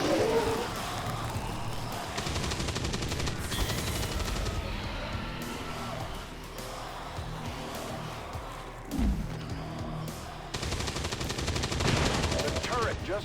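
Automated turret gunfire in the tactical game XCOM 2: bursts of rapid machine-gun fire with thuds and impacts, intermittent and fairly loud, with quieter stretches between volleys.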